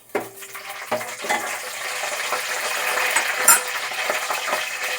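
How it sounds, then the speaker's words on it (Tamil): Whole spices (cinnamon, clove, cardamom, star anise and stone flower) sautéing in a pan for mutton kulambu, a steady hissing fry with a few sharp utensil clinks near the start. "பட்டை, கிராம்பு, ஏலக்காய், அன்னாச்சி பூ, கல்பாசி எல்லாம் போட்டு இருந்துக்குருவோம். நல்லா வதக்கிடுவோம் எல்லாத்தையும்."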